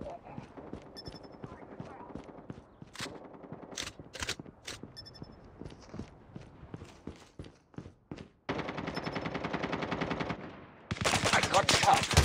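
Bursts of automatic gunfire in Call of Duty Mobile, sharp repeated shots with sustained loud firing toward the end, mixed with game sounds.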